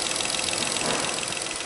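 A Volkswagen Up's engine runs steadily after a service, giving a continuous dense mechanical whir close to the microphone with no talk over it.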